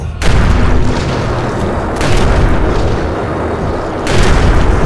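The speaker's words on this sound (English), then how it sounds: "Kaboom! Explosions!" Booming explosions from grenades in the video game Eternal Darkness, a dense, continuous rumble with fresh blasts swelling in around the one-, two- and four-second marks, loud and filling the scene.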